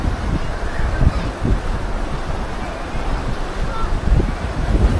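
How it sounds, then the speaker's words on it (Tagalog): Strong wind at Sinulom Falls buffeting the microphone in heavy low rumbling gusts, with a continuous roar like surf or open water behind it. "ni kusog ang hangin"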